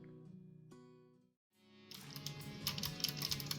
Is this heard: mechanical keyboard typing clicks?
yes